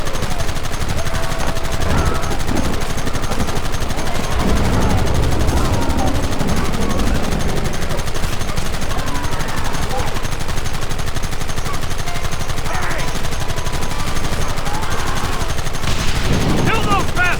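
Heavy gunfire from Red Dead Redemption rattles on steadily for the whole stretch, loud rifle and rapid shots overlapping, with shouted voices breaking in at times.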